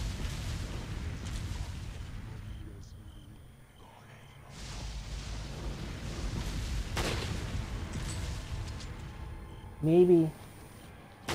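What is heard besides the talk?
gunshots in video game Resident Evil 4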